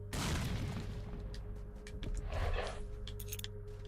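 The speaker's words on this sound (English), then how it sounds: "Throw a grenade over." Grenade blasts in the shooter game STALKER, a heavy booming explosion at the start followed by a second muffled burst and scattered crackling debris, loud and close.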